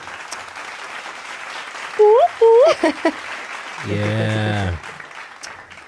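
Crowd applause greets a guest being introduced on a podcast, a burst of clapping and cheering under a background hiss, with a short spoken reply from a voice.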